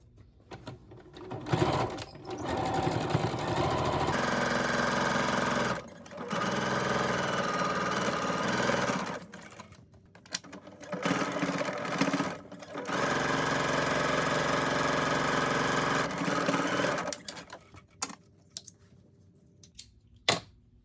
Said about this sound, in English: When you're ready to sew your sides, you're going to end up closing this opening.